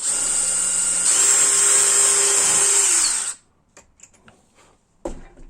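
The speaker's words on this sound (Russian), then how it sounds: "Теперь беру шпатель, выставляю его 20 миллиметров, засверливаемся." Power drill boring through a steel putty knife, a loud high whine held steady for about three seconds that winds down as the bit breaks through, followed by quiet handling clicks and a final thump.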